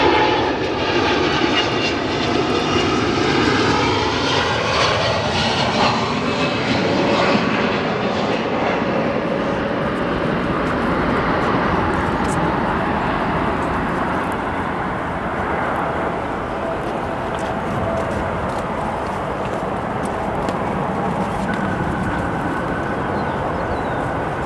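A domestic Boeing 777 lands at O'Hare, then roars loudly on reverse thrust, a close, sustained broadband engine blast with a shifting whine that slowly subsides as the jet decelerates.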